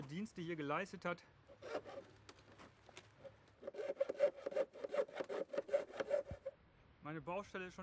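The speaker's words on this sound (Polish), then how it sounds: "W tym celu posłużę się piłą." Rhythmic back-and-forth strokes of a hand saw cutting through a linear drainage channel, close up, with a few pauses and some voices before and after.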